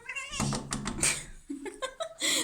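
A pet cat meows and yowls near a door, with soft knocks and thumps as it paws at it, the cries rising and falling over about two seconds.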